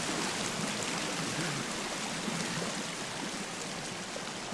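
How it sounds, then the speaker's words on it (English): Loud, steady rushing of flowing water in the survival video game Sons of the Forest, a constant broadband wash like a stream or waterfall filling the whole clip with no talking. "why is the water so loud?"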